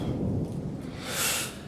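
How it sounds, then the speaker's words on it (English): Steady rain hisses close by while a low rumble of thunder rolls beneath it and swells briefly, with no voices. "Soon, the rain will stop."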